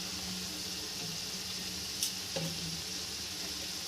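Boiled bottle gourd greens being stirred in a pan, a soft, even sizzle with a couple of quick utensil clicks partway through, fairly faint and with no speech.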